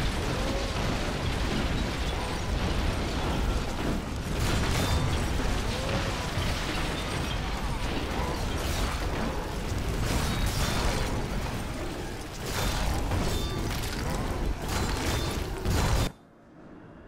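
Continuous barrage of cannon blasts and explosions with mechanical clatter in the video game BattleForge, loud and dense throughout, cutting off abruptly near the end.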